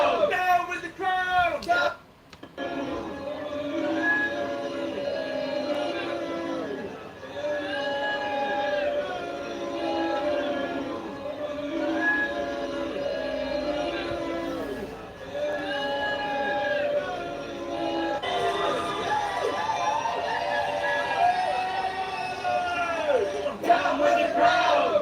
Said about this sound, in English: this is Kate getting booed again in 2025